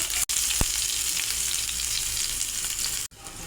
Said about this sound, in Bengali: এখন কেটে রাখা পেঁয়াজ দিয়ে দেব।